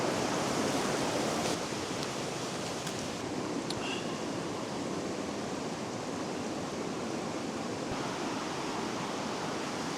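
A small stream that feeds a large river in Canada flows steadily, a continuous close rushing and bubbling wash of water with no pauses.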